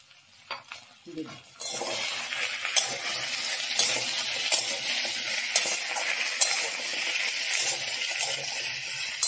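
Taro with salt and turmeric stirred in a hot pan for an ilish fish dish: a quiet start with a few knocks, then a steady close sizzle with scraping stirs and occasional clinks.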